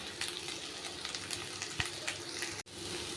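Vegetables such as carrot, green chilli and curry leaves sauté in a pan, a steady close hiss of frying with faint scrapes and a brief dropout near the end, no voices.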